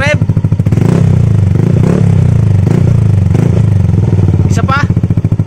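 A Yamaha Aerox v2 scooter fitted with a Yoshimura R77 exhaust with VR1 elbow and resonator revs hard and loud up close, its engine note swelling and dropping repeatedly in rhythmic blips.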